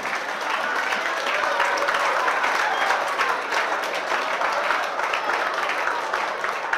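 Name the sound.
audience applause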